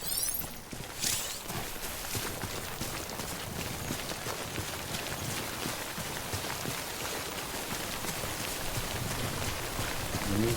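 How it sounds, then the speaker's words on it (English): Steady, dense timefall rain pours in Death Stranding, a continuous close hiss of drops hitting surfaces that holds at an even loudness for the whole stretch, with no talking. "Don't stay out in the rain any longer than you have to."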